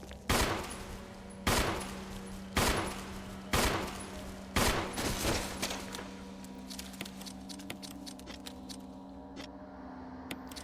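Handgun shots in the Resident Evil video game, fired at spiders: about five sharp, loud reports spaced roughly a second apart, then a cluster of quieter impacts and clatter over a steady low game hum.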